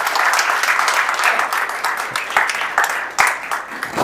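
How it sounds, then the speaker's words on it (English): Warm applause from an audience at an augmented reality meetup greeting a guest, dense sustained clapping with a few sharper individual claps near the end. "So a little round of applause for Tanya."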